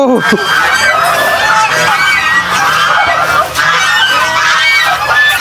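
A flock of geese or ducks honks loudly and repeatedly at a Bedouin desert village in Saudi Arabia during feeding, overlapping calls close by with a voice faintly underneath.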